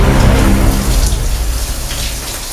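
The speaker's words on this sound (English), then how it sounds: "it's been an hour and we have to put the water back on." Shower water turned back on, pouring and splashing loudly and continuously at close range, a dense hiss of spray on a hard surface with no voices.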